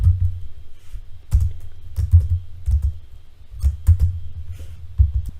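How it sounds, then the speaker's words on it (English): Keys tapped on a computer keyboard in short irregular bursts, close and fairly soft, with scattered clicks and pauses between groups of keystrokes, no voice. "I'm going to type in Fincher, which is the name of that high intervention teacher."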